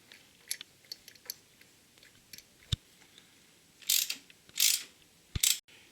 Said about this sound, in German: machen wir ganz schnell die Zündkerze wieder rein